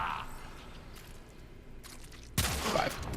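Dual pistol gunfire in the video game Warframe: a loud, sudden burst of shots near the end, following quieter game ambience and faint effects.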